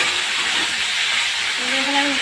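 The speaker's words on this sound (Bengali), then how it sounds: "ভালো করে একটু ভেজে নেবো আগে এগুলো।" Ingredients fry in a pan as a home cook prepares a dish with ginger, green chilli, garlic and onion pastes, giving a steady close hiss and sizzle. A voice comes in briefly near the end.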